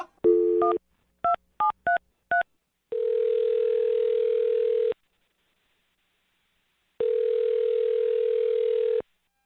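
A phone's dial tone sounds, followed by a quick series of keypad beeps and then two long, steady ringback tones separated by silence.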